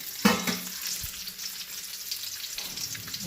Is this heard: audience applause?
no